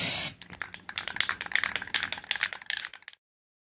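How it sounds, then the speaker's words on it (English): Super Tech brake cleaner sprays from an aerosol can: a brief hissing blast, then a quick run of short, rattly spurts that stop abruptly into silence. "we go with the old brake cleaner from Walmart, Super Tech. Just gonna spray her on there"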